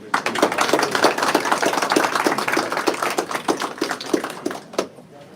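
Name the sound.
audience applause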